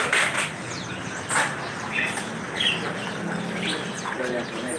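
Songbirds at a bird shop kiosk chirp and tweet in scattered bursts over busy ambient noise, with bits of nearby chatter mixed in.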